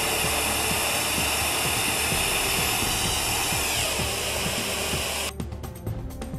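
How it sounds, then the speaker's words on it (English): Exair Line Vac driven by compressed air at 30 psig, blowing a golf ball through a 100-foot hose: a loud, constant hiss and rush of air with a low rumble underneath, breaking into choppier turbulence near the end. "Watch as the golf ball is propelled through this 100-foot length of hose"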